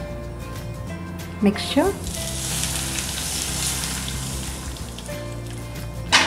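Hot oil poured over a fresh raw turmeric pickle mixture gives a continuous sizzling, crackling hiss that swells and then settles, with a person speaking briefly over it.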